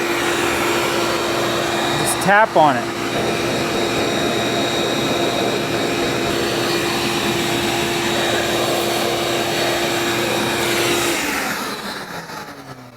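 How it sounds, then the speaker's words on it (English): A shop vac blows air out its exhaust port through an attached hose in a loud, steady whoosh that runs unbroken, with a brief spoken remark early on, before the airflow winds down and fades at the end. "This is where my shop vac blows air out."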